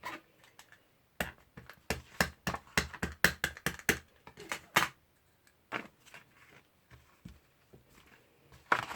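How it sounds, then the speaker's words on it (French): Acrylic stamping blocks taken out of a small homemade box: a burst of sharp hard plastic clacks and knocks in quick irregular succession, then sparser taps and rattles, close and fairly quiet. "je sors mes blocs acryliques de ma petite boîte."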